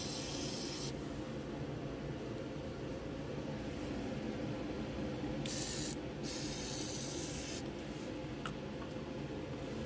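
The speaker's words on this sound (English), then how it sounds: "I'm just spraying it down with some penetrating fluid." Penetrating fluid is sprayed onto the front engine mount bolts of a 2006 Ford Escape in steady, close hissing bursts, with short pauses between sprays.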